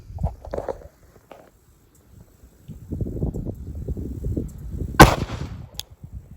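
A single sharp gunshot, fired at a fly, cracks loudly after stretches of quiet shuffling and low handling noise, then fades quickly.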